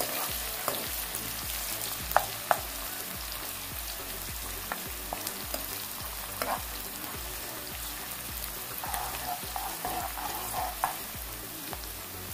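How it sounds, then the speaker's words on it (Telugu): Thinly sliced onions frying in oil over a medium flame for a prawn fry, a steady, even sizzle with scattered pops and crackles throughout, close and unaccompanied by talk. "ఉల్లిపాయలు సన్నగా కరిగి పెట్టుకున్న ఉల్లిపాయలు వేసుకుని ఇవన్నీ మనం కొద్దిగా మీడియం ఫ్లేమ్లో పెట్టుకొని ఫ్రై చేసుకోవాలి."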